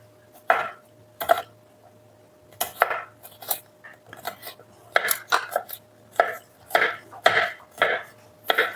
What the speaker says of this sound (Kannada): ಸೊ ಇದನ್ನ ನಾವು ಸಣ್ಣದಾಗಿ ಹೆಚ್ಕೋಬೇಕು